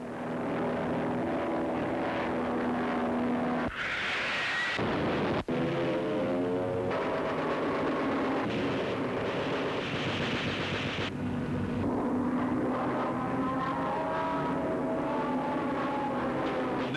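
An Australian military aircraft dives low over a valley floor in Korea under ground fire, its engine roaring loud and steady throughout with shifting pitch as it passes, heard alone without talk.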